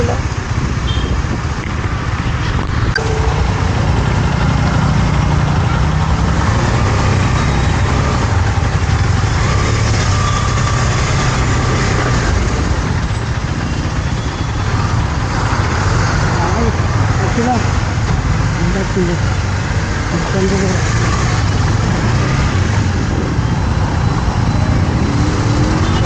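Road traffic with idling car engines makes a continuous low rumble and drone, with passing vehicles and a fan-like hiss, while voices talk over it throughout.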